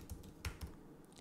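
A few quick keystrokes on a computer keyboard as a terminal command is typed, three soft clicks close to the mic in a quiet room, then stillness.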